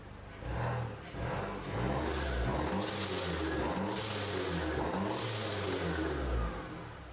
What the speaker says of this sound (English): I'm gonna give you guys like a small rev clip so you guys can hear what it sounds like